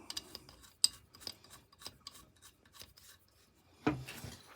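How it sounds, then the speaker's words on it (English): Bolts being tightened on the foot of a hydraulic press: faint scattered metallic ticks and rubbing scrapes from a wrench, with a sharp click early on and a louder clunk near the end, quiet and close. "Tighten up the bolts."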